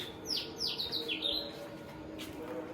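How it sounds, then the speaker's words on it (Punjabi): Sparrows chirp in quick, bright bursts early on, then a lone chirp later, over a steady low background hum, at about 5 a.m. in rural Punjab. "ਚਿੜੀਆਂ ਦੀ ਚੀਂ ਚੀਂ ਕਰਦੀਆਂ ਨੇ"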